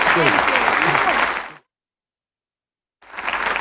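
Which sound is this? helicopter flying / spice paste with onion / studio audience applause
studio audience applause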